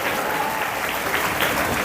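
A church congregation at a Hindi Christian service claps hands to glorify the Lord, a dense, steady burst of loud crowd applause filling the whole moment without pause.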